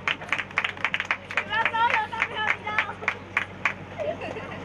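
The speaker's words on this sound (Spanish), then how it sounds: "Un aplauso para ellos." Scattered clapping from a crowd at an outdoor tourist-day prize giving, uneven claps close by, mixed with people talking and chatter.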